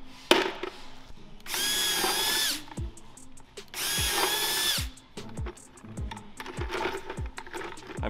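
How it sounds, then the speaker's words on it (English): A power drill whirs in two bursts of a few seconds each, drilling holes on either side of a trick-or-treat bucket handle, separated by clunks and knocks of handling, then shorter taps and clicks. "I'm drilling holes on either side of the handle"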